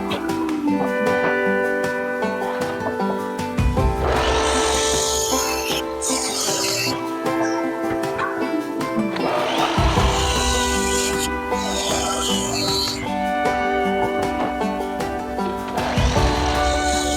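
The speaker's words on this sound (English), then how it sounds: "now I'm going to go and start cutting them to length on the miter saw" A miter saw cuts rough oak boards to length: the motor spins up into a loud whine and bites through the wood, making about three long cuts with pauses between them.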